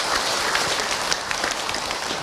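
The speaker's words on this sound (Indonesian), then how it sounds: "Tepuk tangan buat Bunda yang bertamu." An audience at an Islamic talk gives a short round of clapping, dense and patter-like with scattered sharper claps, steady for a couple of seconds with no talking.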